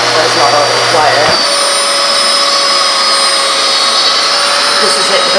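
Vacuum cleaner starting up and running in normal mode on carpet, a steady loud whine with a sharp switch-on transient near the start, moderately noisy and continuous without talk.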